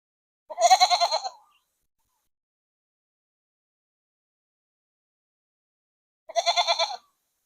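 Two goat bleats, each a wavering, quavering call about a second long, separated by several seconds of silence; close and clear.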